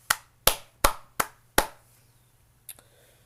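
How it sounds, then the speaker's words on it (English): Five sharp claps in an uneven rhythm, each ringing briefly, then a faint knock near the end; a small, sparse clap rather than a crowd's applause. "let's give a round of applause to that"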